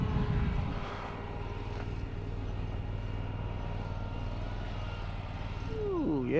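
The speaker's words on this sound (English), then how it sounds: "Let's see if we can go low. A little flyby." An OMP Hobby T720 RC airplane flying past low, its motor a steady drone that swells at the start and again near the end as it passes close.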